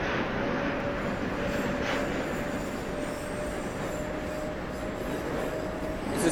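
Subway train running in the OpenBVE train simulator game on a G line pulling in at Bergen, a steady rumbling roll with a faint squeal of wheels throughout, loud and continuous with no talk.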